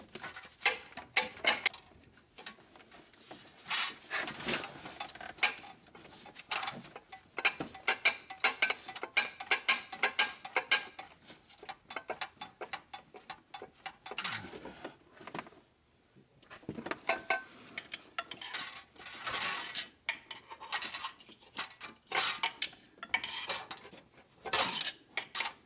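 Metal clanks and knocks come from the old flywheel of a VW Jetta TDI with a manual transmission as it is rocked back and forth for removal, forming irregular, close, sharp bursts with brief pauses.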